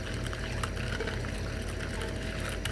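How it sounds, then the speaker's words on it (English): Water is poured into a coconut taro drink made with coconut milk, giving a steady, continuous liquid rush with a low rumble throughout and no talking. "So we might want to add a little bit of water"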